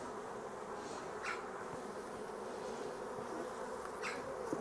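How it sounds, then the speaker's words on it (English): Honey bees buzzing at an open hive during a spring inspection, a constant close hum with individual bees zipping past the microphone now and then, no talking. "But those bees look good."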